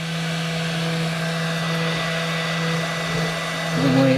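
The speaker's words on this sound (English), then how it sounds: "That vibration is just coming from the motor" A Yihua 853AAA rework station's motor runs with a steady, even hum and a faint tonal whine, swelling slightly louder near the end.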